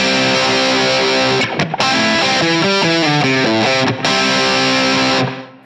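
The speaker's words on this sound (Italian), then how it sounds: "Prima una distorsione, qui magari la applico un pochettino più aggressiva per sentire meglio l'effetto" An electric guitar plays through a distortion effect set fairly aggressive, with loud, heavily saturated chords and a run of changing notes, briefly cut by short gaps, before ringing out and stopping.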